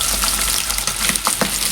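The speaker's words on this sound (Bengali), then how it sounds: "কড়াই গরম করে তারপরে মাছটা ভাজতে হবে।" Bhola fish fries in a hot wok, a loud, dense, continuous sizzle and crackle close up with a few spattering pops.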